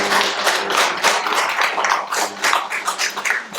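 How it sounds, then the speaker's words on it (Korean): Audience at a Buddhist Dhamma talk in a Korean meditation centre claps steadily for a visiting teacher, a dense burst of close, bright hand claps sustained throughout with no talk. "박수 치시면서"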